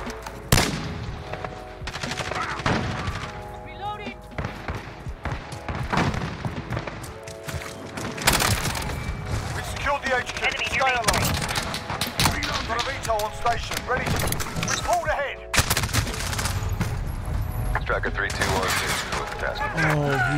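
Rapid bursts of RAM-7 assault rifle fire in the video game Modern Warfare, loud and sustained with repeated volleys and explosions throughout, while a player talks over the gunfire.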